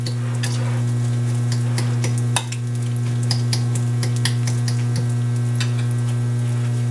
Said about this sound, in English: I like my bacon nice and crispy